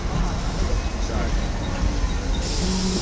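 A Staten Island Railway R44 train at Stapleton station rumbles and hums nearby, a steady rolling noise with a brief tone near the end, while people talk over it.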